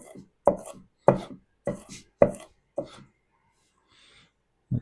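Ulu knife chopping an onion on a cutting board, five quick sharp chops in an even rhythm, then a pause and one more cut, close and clear.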